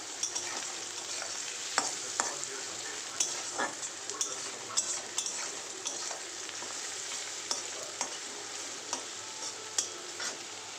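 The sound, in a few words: onions frying and being stirred in a pan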